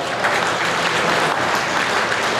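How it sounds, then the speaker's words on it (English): Crowd applause at the Big E Northeast Fall National Holstein show for a class of senior cows: a loud, sustained, evenly dense clapping from many people, with no speech over it. "give this group of young cows another round of applause"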